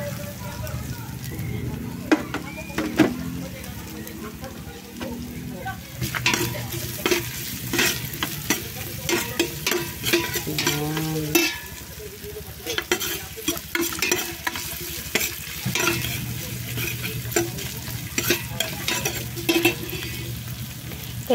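Ginger and chili sauté in a pan, a continuous close sizzle with frequent scraping and stirring clatter from a utensil, while someone talks intermittently over the cooking.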